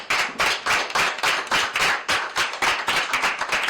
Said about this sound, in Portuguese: peço mais uma vez uma salva de palmas aos premiados